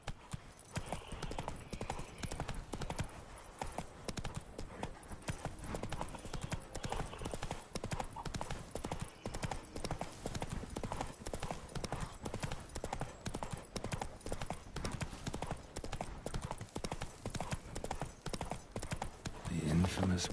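Roach the horse galloping in The Witcher 3, hooves pounding in a fast continuous clip-clop rhythm that stays close and steady throughout, with brief bits of the rider's voice.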